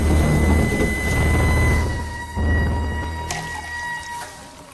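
A video game drink machine makes a harsh, grinding noise that rumbles and screeches with rattling clunks and a sustained metallic whine, loud and close, with no voices.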